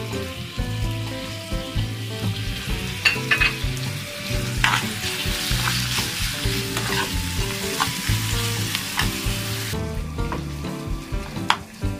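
Chicken stir-fries with black pepper, salt and seasoning in a hot pan, a loud continuous close sizzle with constant scraping and clattering from stirring throughout, no voices.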